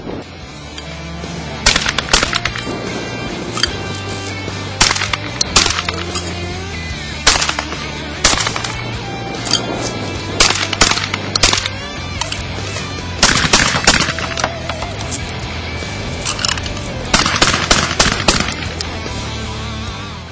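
Beretta Xtrema2 shotgun fires repeatedly outdoors, sharp loud blasts spaced a few seconds apart, some in quick doubles, each trailing off into a rumble over a low steady background hum.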